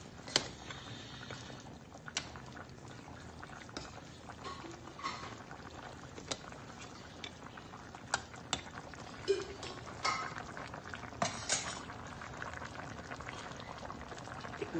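Pork hock adobo cooked with Coke simmers in a pot, a faint continuous bubbling with small pops and occasional clinks, no talk over it.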